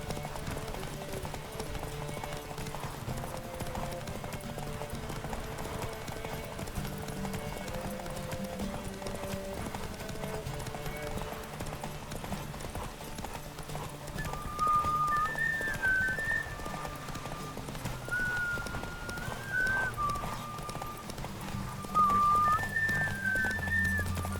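Horse hooves clip-clop steadily in The Witcher 3 game, a continuous trotting rhythm under soft melodic game music with a few whistle-like notes and occasional voices.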